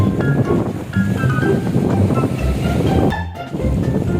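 Broad open sea rolling in against a tall seawall about 15 feet high, a loud, continuous roar of surf and churning water mixed with heavy wind buffeting the microphone, with no talking.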